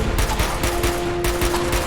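Rapid pistol gunfire in the video game Fallout 4: Far Harbor, a loud, dense string of overlapping shots that rattles on without a break over a low steady hum.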